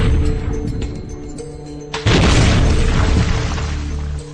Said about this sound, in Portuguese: Aqui temos o outro disparo.